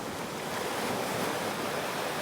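Rough ocean waves breaking off Santa Rosa, Peru, where fishermen paddle reed totora boats; a steady, loud, broadband roar of surf continues without a break and with no voices.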